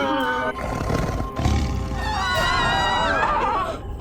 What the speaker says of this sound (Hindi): प्रतीत होता है उस बाघ का आत्मविश्वास बहुत बढ़ गया है, तभी तो इतनी तीव्र ध्वनि से वो दहाड़ रहा है।